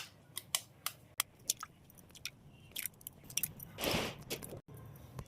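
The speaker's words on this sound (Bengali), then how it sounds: "তো তার জন্য ডিমগুলো আমি সব ফাটিয়ে নেব।" Eggs being cracked for bread pizza in a home kitchen: a string of sharp, close cracks and taps, then a brief wetter slosh as the contents drop, with no talking.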